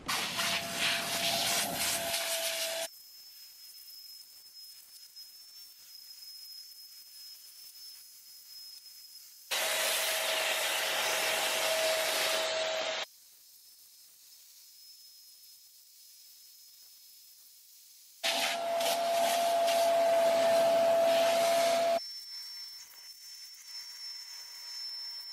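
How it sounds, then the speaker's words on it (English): A vacuum cleaner cleaning the seats of a Saab 9-3 whines and hisses in three separate bursts of suction, with quieter humming stretches in between. "you don't have to listen to the sound of the vacuum"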